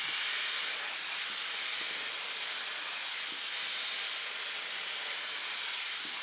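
A hair dryer fitted with a comb attachment blows a steady, loud, broadband airy hiss, continuous and unbroken with no talking over it.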